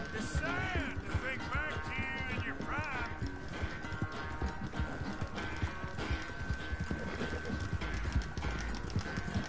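A horse gallops in the Red Dead Redemption video game, its hooves drumming continuously and close over ambient game noise. A few whinnies rise briefly near the start.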